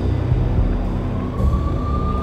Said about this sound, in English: I could hear the sirens.